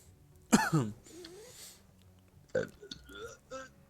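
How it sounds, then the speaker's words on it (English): A person burps loudly and wetly at close range, followed by a second, shorter burp and some throat sounds, with faint background talk. "I just burp like an animal."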